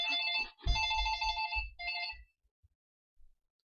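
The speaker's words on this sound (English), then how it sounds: "That's twice I've had my phone ring in the last 10 minutes." A phone in the Nancy Drew video game rings with a clean electronic melodic tone, two or three bursts of ringing that stop abruptly, followed by near silence with a couple of faint clicks.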